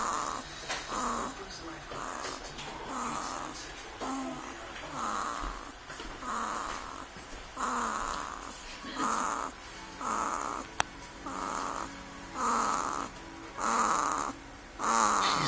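A sleeping baby snores softly in a steady rhythm, roughly one breath per second, close and quiet over faint room noise.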